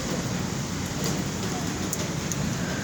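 Steady rain falls in a dense, even hiss, close and constant, with a few faint brief drip accents and no pauses.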